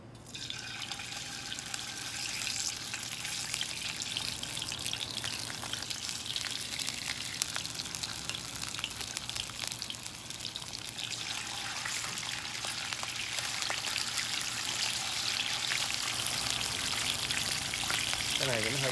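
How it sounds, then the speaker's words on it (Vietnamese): Salmon skin fries in a pan with a steady, crackling sizzle that stays fairly quiet and continuous throughout, with faint background noise. "mình chiên da cá nãy các bạn ha"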